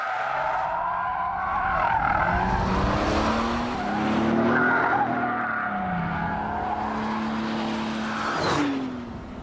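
Heavy Rolls-Royce-based sports car sliding sideways, tyres squealing and engine droning through repeated rising and falling sweeps, fairly close and sustained with a sharper squeal near the end, no voices.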